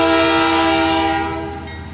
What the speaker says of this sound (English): Hear the train bell, watch the light.